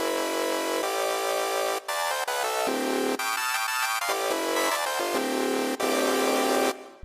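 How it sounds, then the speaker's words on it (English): An evil chase-style synth patch built in Reason 7 plays a bright, buzzy, harmonically rich line of sustained notes that change pitch in abrupt steps, loud and alone for about seven seconds. "So there's basically your evil chase type of sound."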